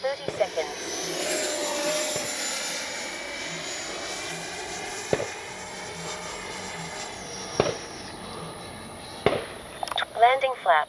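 A Freewing F-5 Tiger II radio-controlled jet makes a steady, loud turbine-fan whoosh as it passes the runway, its pitch shifting as it goes by, with a few sharp knocks near the end.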